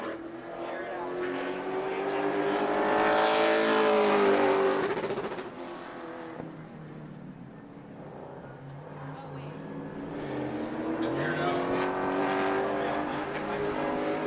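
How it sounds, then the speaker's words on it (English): A Pro Late Model race car laps New Smyrna Speedway in qualifying, its engine swelling loud as it passes close, fading, then building again, with a commentator talking over it. "Tim Laurent on his final lap."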